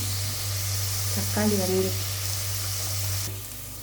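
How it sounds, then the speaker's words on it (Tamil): Tomatoes sauté with rock salt in a hot pan for vegetable biryani, a continuous close sizzle with brief stirring, under a steady low hum, fading slightly near the end. "தக்காளி நல்லா வதங்கிடுச்சு"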